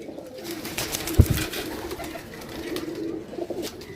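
A pigeon gives soft, low coos close by, with a few short clustered calls near the middle. Faint background rustle surrounds them.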